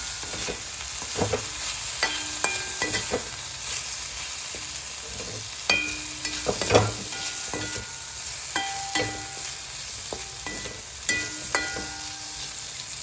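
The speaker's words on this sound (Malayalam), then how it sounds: "നമ്മുടെ ചെമ്മീന് നമ്മൾ മറന്നു പോകല്ലേ നമുക്ക് ഇളക്കി കൊടുക്കണ്ടേ ഇളക്കി ഒന്ന്" Prawns light-frying in a pan, stirred with repeated scraping and clattering strokes over a continuous close sizzle, with no talk.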